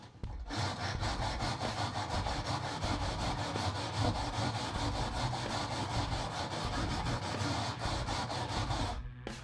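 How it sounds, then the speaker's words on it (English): A wire brush scrubs old headliner padding off the bare metal of a classic VW, a loud, fast, continuous rasping scrape close up, with no one talking. "a wire brush makes quick work of it"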